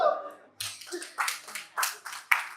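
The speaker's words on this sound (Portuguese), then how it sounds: "Uma salva de palmas." A small audience at a Bible class bursts into applause right after a brief spoken voice, giving a series of short, uneven rounds of clapping that rise and fade several times.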